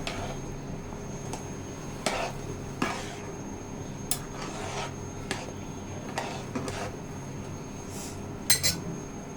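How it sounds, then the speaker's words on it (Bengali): A utensil stirs garlic and ginger paste with cashew paste in a pot for morog polao, giving quiet, irregular scrapes and sharp metallic clinks spread across the clip, the loudest near the end. "সব কিছু একসাথে একটু নেড়ে চেড়ে দেব"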